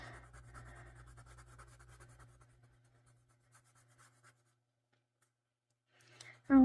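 A Crayola colored pencil scratches across paper while coloring, a soft close-up rasp of repeated short strokes that thins out, then stops near the end.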